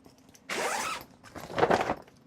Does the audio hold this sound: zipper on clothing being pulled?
yes